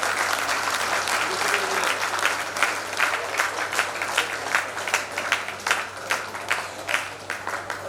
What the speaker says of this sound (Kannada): ಚಪ್ಪಾಳೆ ಕೊಡಬೇಕು.